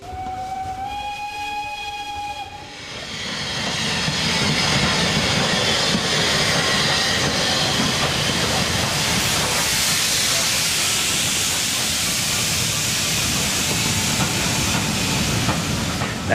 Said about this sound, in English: the first full-gauge preserved steam railway in the whole of England